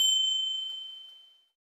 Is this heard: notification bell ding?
yes